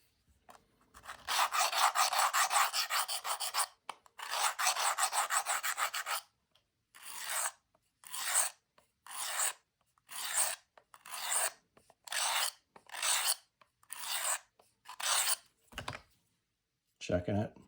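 A knife blade is drawn across a sharpening stone, first in a long continuous rasp, then in a run of short, regular strokes with brief pauses between them, close and clear.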